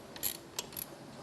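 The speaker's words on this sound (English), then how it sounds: "in order to adjust the pipe, we need to loosen the clamp, loosen this nut" A wrench clicks on a clamp nut, loosening it on a car wash pipe of a SONNY'S Omni 350. The close metallic ratcheting comes in three short bursts, quiet and isolated, with no talk.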